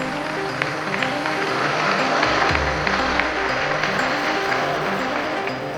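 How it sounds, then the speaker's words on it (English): Audience applause at a Year 7 school annual show, dense sustained clapping from a large crowd filling the hall, steady and loud for several seconds. "A very big round of applause to 7A."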